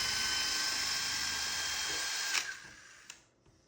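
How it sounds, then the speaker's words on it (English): A portable drill in a drill guide whines steadily up close while drilling holes in a wooden tabletop for threaded inserts, then stops with a couple of sharp clicks and a brief rattle as it winds down. "Using the Miles Craft portable drill guide, I drilled out the holes for my threaded inserts."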